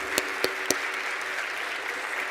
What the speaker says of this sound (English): I want to now give a big round of applause to all of our panelists.